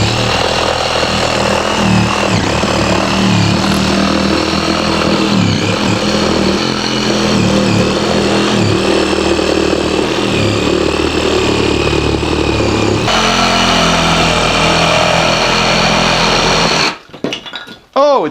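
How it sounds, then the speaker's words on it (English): A reciprocating saw cuts a round hole through lath, old plaster and sheetrock in an insulated wall, making a loud, close, continuous motor drone that stops suddenly just before the end. "we're going to just recip saw, I guess, the round hole"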